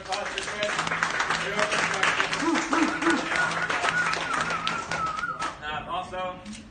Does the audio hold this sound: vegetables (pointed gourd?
no